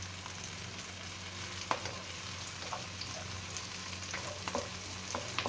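Garlic stir-frying in a pan over medium heat for ginisang ampalaya, a soft continuous sizzle with scattered light crackles and occasional spatula scrapes, no talking.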